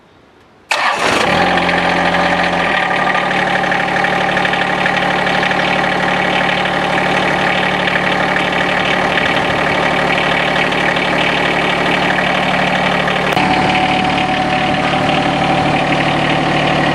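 A John Deere X750 lawn tractor engine cranks briefly and catches, then settles into a loud, steady idle that runs on alone for many seconds, with a slight shift in tone near the end.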